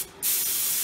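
A homemade waste oil burner's siphon atomizer nozzle, fed by air regulated at 50 psi, bursts into a loud, steady, close spraying hiss after a brief quiet moment.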